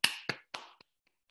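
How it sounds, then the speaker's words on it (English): Hands clap three times in a quick, even rhythm, sharp and close, followed by a few faint taps and then quiet. "Everybody clap your hands."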